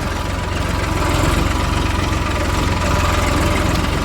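Farm tractor engine running in a field being readied for summer sowing, producing a loud, constant, close low-pitched diesel throb with steady rhythmic pulsing and no pauses or voices.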